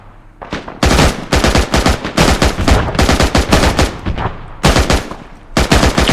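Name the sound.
gunfire from weapons in a video game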